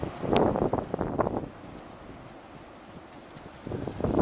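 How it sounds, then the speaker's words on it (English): Strong wind on a very windy March day buffets the microphone outdoors in loud rumbling gusts, easing to a softer steady rush before building again. "This is how windy it is here today."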